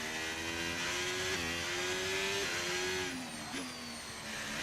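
Screaming Porsche F1 engines in the racing game F1 25, loud and continuous with a steady high whine that shifts pitch through upshifts and revs, one sharp climb near the end.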